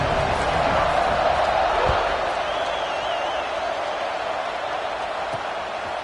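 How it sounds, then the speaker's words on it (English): Stadium crowd buzz in a college football video game, Gators versus BYU, a steady dense roar of many voices filling the space after a score, constant and fairly loud throughout without letting up. "this crowd is buzzing after that last score"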